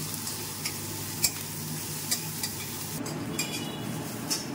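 Onions sizzling in a little oil in a home kitchen pan, a steady frying hiss with occasional sharp clinks and scrapes of a spoon stirring, close and alone with no talk.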